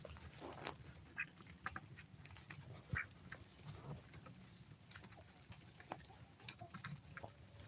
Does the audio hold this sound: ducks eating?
yes